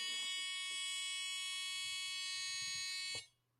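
A steady, piercing electronic buzz holds at one tone for about three seconds, then cuts off abruptly, leaving quiet.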